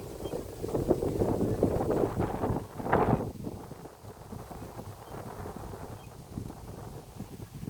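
Wind buffets a microphone outdoors near a trail, a steady low rumbling roar with gusts that swell and ease, one stronger burst near the middle, and no voice over it.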